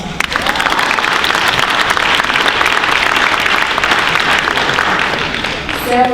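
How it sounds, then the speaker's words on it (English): An audience at a Calhoun Community College award reception claps for Platinum Scholars with a 4.0 GPA, a full, close round of applause that stays loud and even before easing slightly at the end. "I think that in itself deserves a round of applause."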